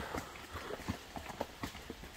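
Horse hooves clip-clop during an outdoor horseback ride, a soft, fairly close, uneven run of hoof strikes at walking pace.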